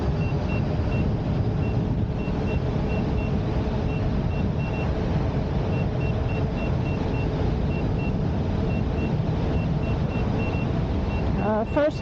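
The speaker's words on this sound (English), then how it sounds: "first helmet beep" A Sherman S electric unicycle's helmet-mounted alert sounds as a string of short, high beeps in an uneven rhythm at around 45 miles an hour, over constant rushing wind and road noise.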